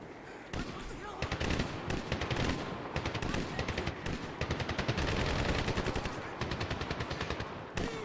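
Rapid automatic gunfire in the video game Medal of Honor (2010), dense bursts of machine-gun shots in quick rhythmic volleys, loud and continuous with brief gaps between strings.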